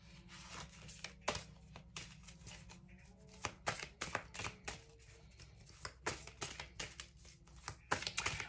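Tarot or oracle cards being shuffled by hand, close and quiet, with a series of soft riffling slaps and crisp snaps in irregular bursts over a low background hum.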